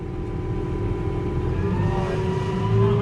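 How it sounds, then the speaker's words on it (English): Truck passing in city traffic, a low rumbling engine with a rising whine that swells louder toward the end, heard from inside a nearby vehicle. "now a truck's gonna pass you"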